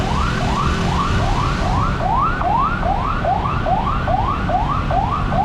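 An ambulance siren wails, sweeping up and down in a steady repeating cycle over a constant low rumble of jammed Jakarta night traffic, loud and fairly close.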